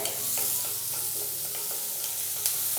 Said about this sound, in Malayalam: ചെറുതായിട്ട് അരിഞ്ഞെടുത്ത സവാളയും ചേർത്ത് കൊടുത്തിട്ട് നല്ല രീതിയിലൊന്ന് വഴറ്റിയെടുക്കുകയാണ്